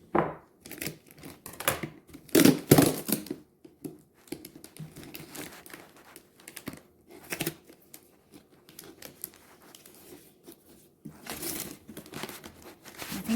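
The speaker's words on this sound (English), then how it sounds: "I'm gonna use my scissors." Scissors snipping through gray duct tape while planting peppers indoors, producing sharp crinkly cuts and tearing rustles in irregular bursts, close up, with quiet gaps between the louder snips.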